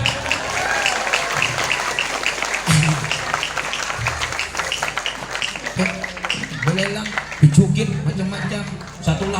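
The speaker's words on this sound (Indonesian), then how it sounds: "Tepuk tangan dulu pada datang." A crowd applauds with sustained, dense clapping at a religious charity auction, and voices mingle in the background throughout.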